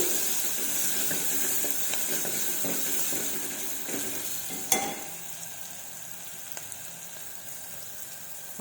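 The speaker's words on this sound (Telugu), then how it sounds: "కొద్దిగా పసుపు ఒకసారి కలపాలి" Turmeric is stirred into food sizzling in a pan of oil, with a steady close frying hiss, scraping stir noises and one sharp clack of a utensil midway.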